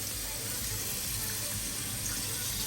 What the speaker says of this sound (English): Time for the rinse from the inside out